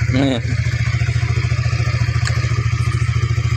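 A motorcycle engine idles steadily up close, its low rhythmic chugging continuous throughout, with a brief higher whine near the start.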